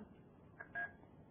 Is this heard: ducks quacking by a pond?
no